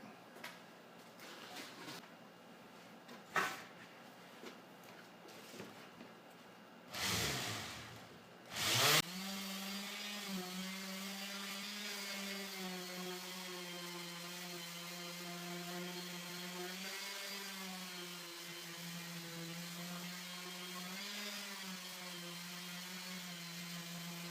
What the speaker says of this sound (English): And now I'm going to take the sander and smooth it up.